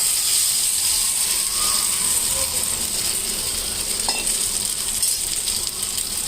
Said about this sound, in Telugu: ఇది సిమ్లో పెట్టి నెమ్మదిగా వేయించుకుంటే సరిపోతుంది.